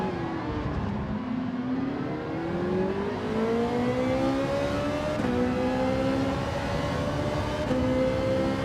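A Gran Turismo 7 race car engine revs steadily higher and higher in a single gear without shifting up, a loud sustained whine holding near the top of the rev range for several seconds.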